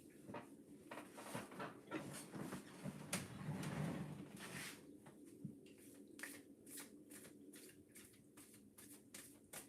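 Tarot cards shuffled and pulled by hand, heard close but very faint as soft riffling, light taps and slides in an otherwise quiet room.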